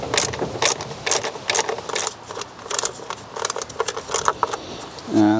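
An E6 socket works an E-Torx bolt on a BMW 6 Series engine during a service, with a run of close metallic clicks and jangles, then a brief thud at the end.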